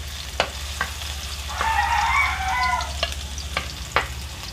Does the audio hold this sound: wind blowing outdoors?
no